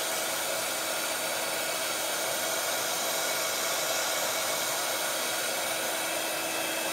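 A heat tool blows steadily to melt embossing powder until it turns smooth, a constant loud hairdryer-like rush of air that lasts the whole time without a break.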